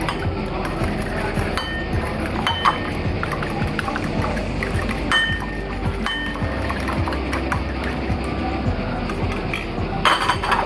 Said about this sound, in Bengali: ডিমটাকে আগে বাটিতে নিয়ে নিচ্ছি তারপর একটা কাঁটা চামচের সাহায্যে এটাকে একটু ফাটিয়ে নিচ্ছি